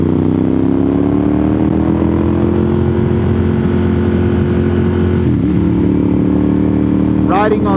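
A motorcycle engine hums steadily at cruising speed on leaf-strewn autumn back roads, with a brief gear change near the end, close and continuous beneath a talking rider.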